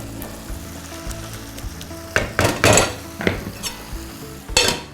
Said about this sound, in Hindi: भूनते रहिए हाँ कीमे को